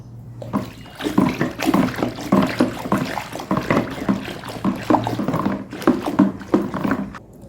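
Water is poured and stirred while mixing homemade liquid laundry detergent, two litres going into ten litres of water, giving loud, close, sloshing splashes and gurgles in uneven surges with no talking.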